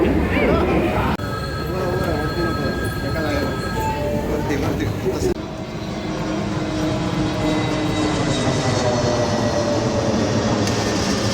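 Passenger train travelling from Sawantwadi to Mumbai, a steady rumbling and rattling of the carriage running continuously throughout, with people talking over it.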